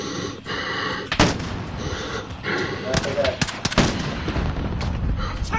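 Video game gunfire cracks in sharp, scattered shots and short bursts, some loud and close, mixed with players talking.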